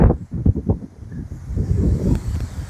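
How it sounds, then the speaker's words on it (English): Strong, gusty wind buffets the microphone on a golf course, rumbling in uneven surges that rise and fall loudly and close, with no talking. "It's either been a gale force bloody wind or it's been a steady breeze, and it just gusts up on you."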